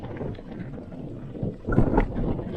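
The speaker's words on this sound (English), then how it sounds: "The wind is pretty bad." Strong wind at Uluru buffets the microphone in continuous rough gusts, loud and close, swelling briefly near the two-second mark.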